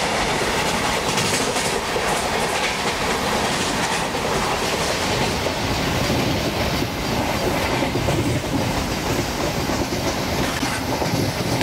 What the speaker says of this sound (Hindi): तो गाइस आगे से कोई मालगाड़ी अप्रोच कर रही है शायद